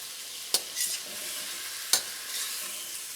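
Beef lo mein tossed and flipped in a wok over a flame, steady sizzling frying with two sharp metallic clanks of the pan and a brief stirring rustle between them.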